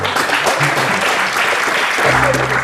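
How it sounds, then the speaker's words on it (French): A comedy show audience bursts into sustained applause, a dense, loud wash of many hands clapping for the whole stretch, with a faint voice briefly underneath. "On applaudit."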